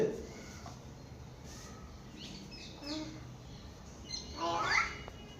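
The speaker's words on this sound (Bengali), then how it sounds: "পায়রা এসছে।" A young pigeon gives soft, faint calls and squeaks at close range, scattered across a quiet background with a short louder burst near the end.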